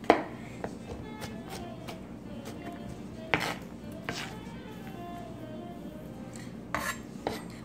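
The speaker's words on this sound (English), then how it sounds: "When chopping or mincing, make sure you keep the tip of the knife always on the board" Sparse knife taps on a cutting board while mincing garlic, a few sharper chops scattered among quiet kitchen clinks and rustling, close and fairly soft.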